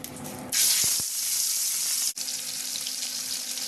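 Coral fish marinated with turmeric, chili and salt sizzles loudly in hot oil, a sudden bright hiss bursting in after a moment and carrying on steadily, briefly dipping before resuming, close and with no talk.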